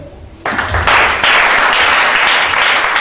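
A church congregation bursts into loud, sustained applause after a short pause, dense clapping filling the room with a few voices mixed in.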